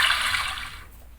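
A gushing, splashing water effect, a bright broadband rush that starts loud and fades away over about a second, as used in a Google search trick.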